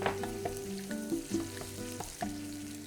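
Diced chicken sears in a paella pan with caramelized tomatoes and onions, a soft, close sizzle broken by repeated clinks and scrapes of a utensil against the pan.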